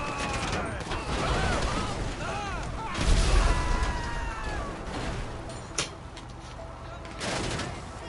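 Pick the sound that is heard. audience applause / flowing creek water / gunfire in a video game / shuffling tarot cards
gunfire in a video game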